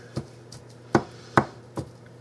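Lean ground beef being chopped and broken into crumbles in a pan, with five distinct utensil strikes at an uneven pace, close and moderately loud over a quiet background.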